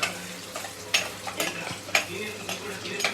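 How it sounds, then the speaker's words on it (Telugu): Eggs frying in oil with turmeric in a clay pot, a steady close sizzle broken by several sharp stirring clinks and scrapes. "ఇగో ఎగ్స్ ఫ్రై చేస్తున్నాను."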